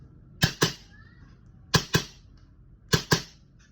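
Tokyo Marui Hi Capa 4.3 airsoft pistol firing .23g BBs outdoors, three pairs of sharp, snappy gas shots spaced about a second apart, each pair a quick double crack standing alone in a quiet background.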